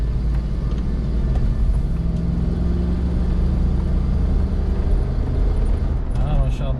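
Land Rover Discovery 2 driving and accelerating after an air-flow sensor replacement, a steady close engine and road rumble that holds level throughout with no backfire.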